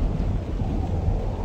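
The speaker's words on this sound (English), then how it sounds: "This is a really crazy thunderstorm." Thunder rumbles through a heavy thunderstorm as a deep, continuous low roar, loud and close, with no voices over it for the brief stretch.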